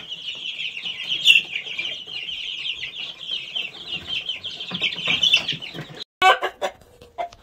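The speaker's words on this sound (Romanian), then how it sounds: "Aici avem o pereche de australorp negru, găina și cocoșul" Black Australorp chickens, a hen and a rooster, cluck continuously up close, with wing flaps and a louder burst of squawking near the end.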